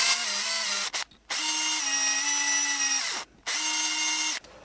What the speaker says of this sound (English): Now we'll drill a small hole in the center of each of these.